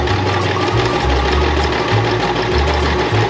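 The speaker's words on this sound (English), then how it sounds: "now we're gonna sew a line straight at the half inch mark" A sewing machine stitches a zipper seam into curtain fabric, its motor humming with a low pulsing drone that surges and eases in steady cycles, loud and close with no talking.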